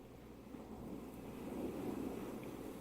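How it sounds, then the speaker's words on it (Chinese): An ocean-waves sleep sound from a Soundcore Wakey Bluetooth speaker plays as a soft, broad wash of surf that slowly swells louder, with no voices. "海浪的声音，"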